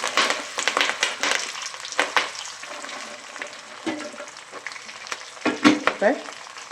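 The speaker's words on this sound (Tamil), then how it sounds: "இப்போ இதை நல்லா எண்ணெயில் போட்டு எண்ணெய் நல்லா பொங்கிட்டு இருக்கு" Pirandai (adamant creeper) frying in bubbling hot oil, crackling and sputtering in uneven bursts with sharp pops and scrapes against the pan, close and lively, no speech over it.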